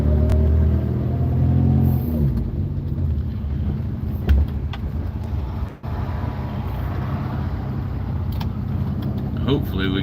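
A 1974 Volvo on an open road makes a loud, steady engine rumble with road noise throughout and a brief dip in level midway. Voices are heard over the drone.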